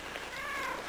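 A single drawn-out cat meow, moderately loud, rising and falling in pitch against a soft steady background hiss.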